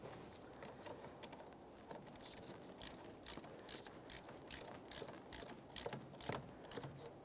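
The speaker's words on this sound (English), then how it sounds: "tighten your 10mm mounting nut until this is completely" A ratchet tightens a 10mm mounting nut on a 2008-2017 Mitsubishi Lancer, giving faint, rapid clicking strokes in irregular bursts against quiet background noise.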